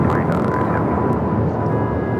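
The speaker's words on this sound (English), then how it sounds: "That is Alaska Airlines 1416 taking off to Guadalajara on the MAX 9" An Alaska Airlines Boeing 737 MAX 9 jet takes off at LAX, heard as a steady, broad roar of engine noise carrying through the whole moment at a moderate distance.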